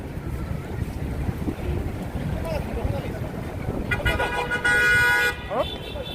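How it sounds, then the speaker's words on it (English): Steady wind rumble buffets the microphone outdoors on a Midtown New York street at night, with a vehicle passing and a brief horn-like tone near the end. "And it's windy too."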